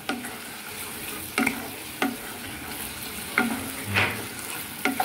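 Raisin paste being stirred and mixed into food in a pan, with several distinct scraping strokes of a spoon at irregular intervals over a faint steady sizzle, close and moderately loud.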